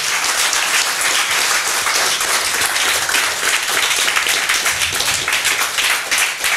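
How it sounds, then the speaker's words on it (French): A church congregation applauds in praise of the Lord, with dense, steady clapping that stays loud and continuous from start to finish without pause. "Allez, acclamez le Seigneur pour ces bonnes choses qu'il nous a données."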